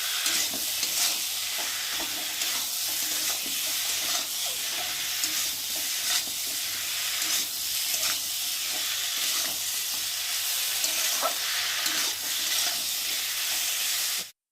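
Spices and vegetables sautéing in a pan for a fish curry with pointed gourd and ridge gourd, a steady close sizzle and hiss with repeated stirring scrapes throughout.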